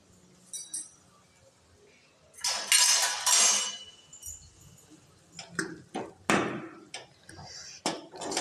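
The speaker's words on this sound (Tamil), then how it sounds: "நல்லா கிளறி விட்டுடலாம்." Tomato pickle stirred in a pan, with a spoon clinking and scraping against metal in irregular bursts, including a longer sizzling scrape near the start and sharper taps later, close and clear with occasional talk.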